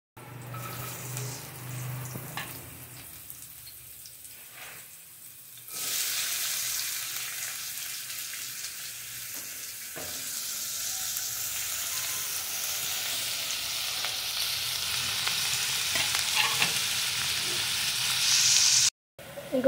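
Tomatoes frying in hot oil in a pan while being stirred, a steady sizzle that swells louder after the first few seconds and continues with stirring scrapes until the end.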